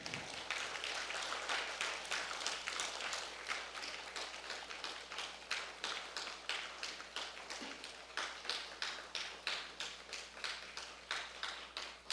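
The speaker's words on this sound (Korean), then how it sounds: "큰 박수로 환영해 주시기 바랍니다." An audience at a lecture hall academy event applauds to welcome a visiting professor, a sustained rhythmic clapping that grows into even, steady beats over a faint low hum.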